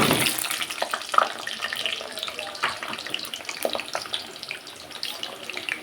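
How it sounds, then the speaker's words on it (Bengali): Potatoes dropped into hot oil in a pan sizzle and hiss loudly at first, then settle into a steady, crackling fry with no voices. "তেল গরম হয়ে গেছে, আমি সব আলুগুলো একসাথে ছেড়ে দেবো তেলের মধ্যে।"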